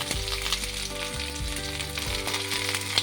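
Sajne drumsticks, potato pieces and eggplant chunks fry in hot oil in a pan for a Bengali vegetarian posto dish, giving a steady, close, dense sizzle with faint scraping stirs and no talk.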